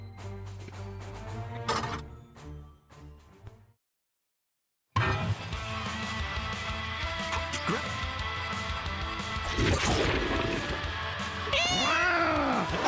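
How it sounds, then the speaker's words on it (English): Cats meow in a few drawn-out, rising and falling calls near the end, mixed in with busy background sound and voices after a brief silent gap. "I love that the cats join in."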